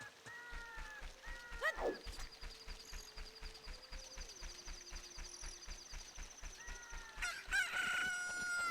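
A rooster crows at daybreak in the video game The Legend of Zelda: Ocarina of Time, one loud crow early and another near the end, over steady pulsing game music with chiming tones.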